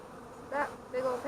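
Honeybees buzz up close during a beehive inspection, a few short rising drones that swell and fade over a low background hum.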